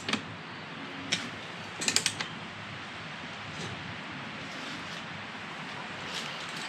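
A hand ratchet clicks while snugging subframe bolts on a 2020 KTM motorcycle, with a few quick clustered clicks and taps heard close but faint over a steady background hiss.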